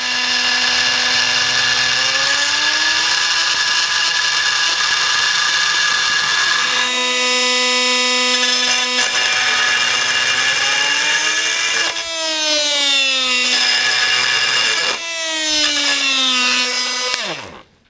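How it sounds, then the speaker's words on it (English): A Milwaukee M18 Fuel oscillating multi tool cuts into lubricated 1/2-inch steel with a loud, close, buzzing whine that rises and falls in pitch as the blade grabs and the tool ramps up, continuous for the whole stretch with no talk. "To give the oscillating tool and the blade the best benefit, I'm gonna put a little lubrication on here to help with the cutting"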